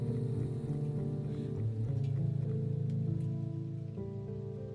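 Methane rain on Titan falls as large, widely spaced drops, with soft scattered patters over a droning, sustained ambient music bed.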